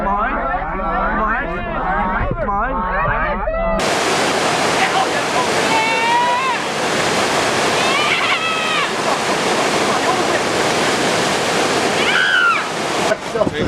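Whitewater river rapids rush in a loud, steady broadband roar, following a short stretch of talk and laughter at the start, with scattered shouts and voices riding over the water noise.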